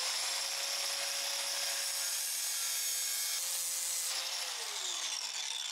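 A small slice of metal is cut off with a shop cutting tool, a steady, fairly faint whirring, grinding hiss with a thin tone that drops in pitch near the end.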